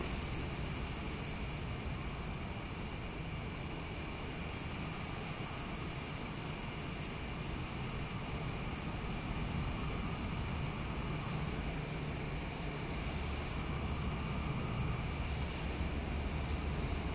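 Airliner taxiing out with engines running in Microsoft Flight Simulator 2024 on PS5, a steady loud jet whine and broad roar that holds constant throughout with no speech.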